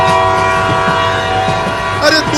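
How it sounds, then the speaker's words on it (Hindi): A cartoon train rumbles along steadily with a sustained mechanical hum and tonal whistle-like ringing, ending in a brief rising squeal near the end; loud and continuous throughout. "ट्रेन चलने लगी"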